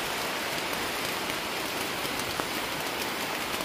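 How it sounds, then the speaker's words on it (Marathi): Heavy rain at a forest campsite pours down steadily, a dense, continuous hiss of drops hammering a surface close by, with no voices. "जोरदार पाऊस चालू झालाय."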